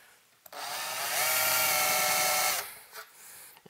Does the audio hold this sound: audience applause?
no